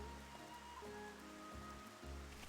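Steady rain falls in the video game Xenoblade Chronicles, a soft, even hiss of drops heard faintly and continuously under sustained musical tones, with no voices.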